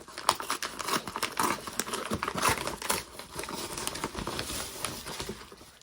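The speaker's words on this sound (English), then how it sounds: "I can probably just tear this" Packaging for a large fire alarm is torn open by hand. Continuous crinkling, crumpling and ripping of paper or plastic sounds close and fairly loud for several seconds, with no speech.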